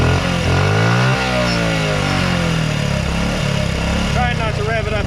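A 1984 Honda Z50 minibike engine runs steadily at close range, its small single-cylinder putter holding a near-constant pitch with a slight rise toward the end.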